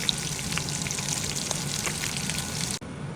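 Galunggong fish fry in hot oil, a steady close crackling sizzle with small pops that holds throughout, then briefly dips near the end.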